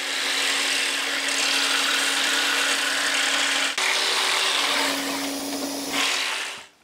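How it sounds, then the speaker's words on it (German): A jigsaw cuts a plunge cut through wood, started from pre-drilled holes, buzzing loudly and steadily at close range for several seconds with one brief stutter, then winding down at the end. "Und das schneide ich mir jetzt mit der Stichsäge aus."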